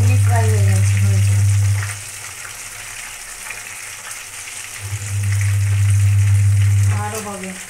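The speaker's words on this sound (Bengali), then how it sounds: "লোটে মাছ এই যে উল্টে দিয়েছে, এইভাবেই ভাজা হবে।" Bombay duck fish frying in a pan, a loud steady sizzle that swells, eases off for a few seconds while the fish is turned, then returns strongly, with a voice speaking over it.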